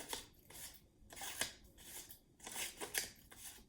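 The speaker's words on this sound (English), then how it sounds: "all of my students love cutting with scissors" Scissors snip through paper strips in a pre-K cutting activity, a quick series of close, crisp cuts in irregular bursts, with no talking.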